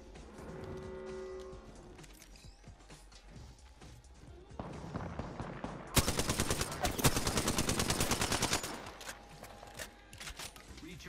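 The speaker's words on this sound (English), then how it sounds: "He shot at me first." Gunfire in the battle royale game Apex Legends: a loud, dense burst of rapid shots erupts about halfway through and runs for roughly three seconds, following quieter game ambience and scattered thuds.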